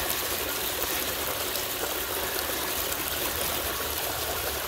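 Water runs through a recirculating sluice used for gold prospecting as a constant, dense rushing wash, close and even throughout, with no talking.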